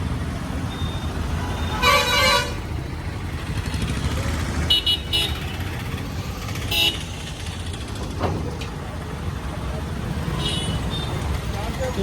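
Busy street traffic in Khammam, India, with motorcycles and lorries rumbling past. Several sharp vehicle horn toots sound near 2, 5 and 7 seconds over a steady roar of engines, with voices murmuring in the background.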